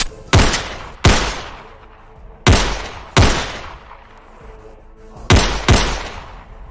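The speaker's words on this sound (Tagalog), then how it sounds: "Umalingaw-ngaw noon sa paligid ang iilang mga putok ng baril na pinakawalan ni na Abarrientos." Gunshots fired as a sound effect in an audio drama: six sharp, loud reports in uneven pairs, each with a long echoing decay, heard alone without speech.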